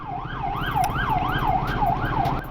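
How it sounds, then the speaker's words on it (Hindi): Ambulance siren wailing on a Polish highway, a loud, steady up-and-down sweep repeating about twice a second over road and engine rumble, close by. "अरे कितनी एम्बुलेंस निकल रही है यार"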